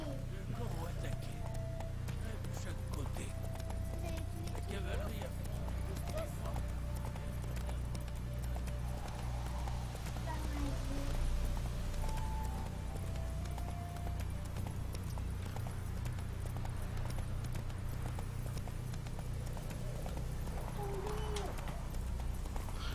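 Horse hooves clip-clopping steadily in The Witcher 3 while riding with a griffin's head strapped to the saddle, faint and continuous beneath game ambience and someone talking throughout.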